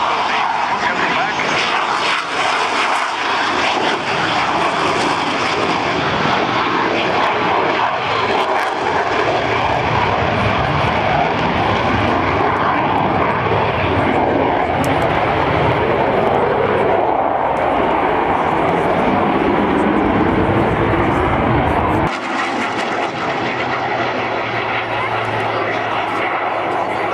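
A jet aircraft with refueling probe out, wheels down and tail hook lowered roars past at the Sanicole Airshow in Belgium, a loud sustained engine rush that shifts in pitch as it passes, with an announcer talking over it.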